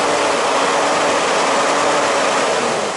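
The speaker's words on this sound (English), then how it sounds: "So we rev the engine." A car engine revs during an alternator output test with loads switched off, using a new battery tester. A loud, steady roar fills the clip from start to finish, with no voices.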